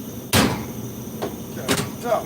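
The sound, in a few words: door being put back on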